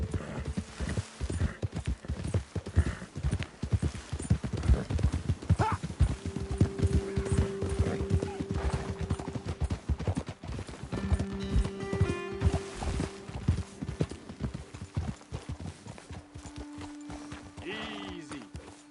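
Video game sound: steady clip-clop of horse hooves trotting on hard ground, with occasional snorts and a whinny, continuing throughout at close range.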